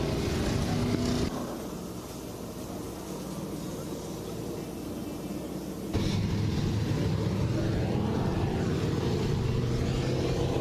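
Modified, stock and street stock race cars, along with a station wagon and a truck, roar together through a speedway heat race, a loud, continuous engine drone that dips briefly and then swells again as the pack passes.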